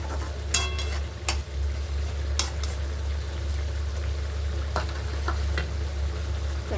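Mutton keema frying in a pan gives a steady, close sizzle with a few sharp scraping clicks as it is stirred, and no one speaks.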